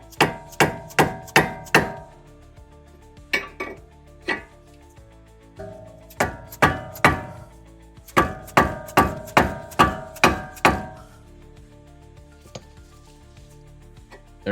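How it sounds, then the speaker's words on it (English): Hammer blows on a wrench tightening the outer tie rod jam nut on a 2005-2014 Ford Mustang: sharp metallic clanks in quick bursts of four to seven strikes, separated by short pauses, close and loud. "Put a wrench in there, and then let's give it a few bonks."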